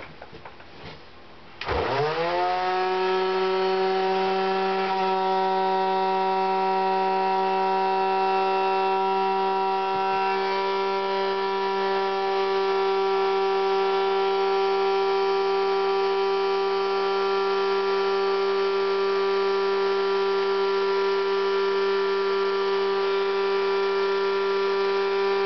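A homemade worm castings harvester soil sifter starts up with a rising motor whine, then settles into a loud, steady droning hum that runs unbroken for over twenty seconds.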